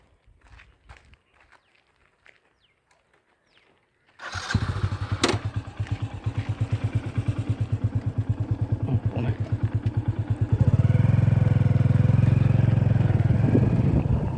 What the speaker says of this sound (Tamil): நம்ம அப்படியே வண்டி ஸ்டார்ட் பண்ணுங்க நான் போயிடலாம்